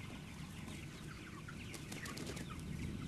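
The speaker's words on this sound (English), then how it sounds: "These are Label Rouge chickens, released from their night quarters into fields" Faint clucking from Label Rouge chickens roaming a field, mostly lost under steady broadband outdoor noise, with a few soft calls heard toward the end.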